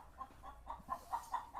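A hen on a village farm clucks nervously near her eggs, giving a run of soft, evenly spaced clucks at close range against a quiet background.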